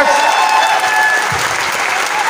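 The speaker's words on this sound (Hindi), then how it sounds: "एक बार सर के लिए जोरदार तालियां होनी चाहिए।" Loud, sustained audience applause at a motivational business event, a dense steady wash of clapping filling the whole stretch without a break.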